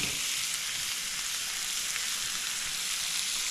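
Striped bass fries in melted butter in a pan, giving a continuous, even, close-up sizzle with no voices over it.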